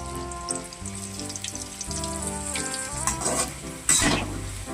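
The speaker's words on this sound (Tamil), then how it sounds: "வெண்டைக்காய் பொரிக்கிற அளவுக்கு எண்ணெய் சூடு ஏறிச்சு. இப்போ நம்ம வெண்டைக்காவை எடுத்து போட்டுக்கலாம்." Sliced okra (ladies finger) dropped into hot oil for chips, a close, steady sizzle and crackle that swells as more pieces go in, with occasional stirring clinks.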